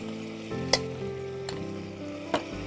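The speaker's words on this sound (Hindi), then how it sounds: "इसे हमें तेल छोड़ने तक भूनना है।" Mutton with ginger garlic paste fries in oil for nahari, a steady close sizzle broken by three sharp clinks of a spoon against the pot.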